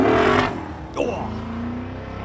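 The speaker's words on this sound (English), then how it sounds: "Sounds better. It sounds so good. Sounds better. The V8 engine." A Nichols V8 race car engine on a test track, a loud broadband roar early on that drops and then settles into a steady, slightly rising engine drone, with some speech-like sound mixed in.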